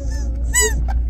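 A small squeaky Halloween dog toy gives one short, bright, close squeak in a home goods store, with quiet store ambience underneath.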